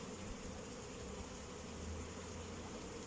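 Honey bees buzzing around two opened hives, a continuous low drone of many wings close by, steady and unbroken with no voices.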